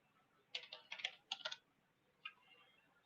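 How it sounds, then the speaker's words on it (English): Computer keyboard typing heard faintly in the background, a quick burst of several key clicks followed by a short pause and one more click. "I hear a keyboard there, Tommy G."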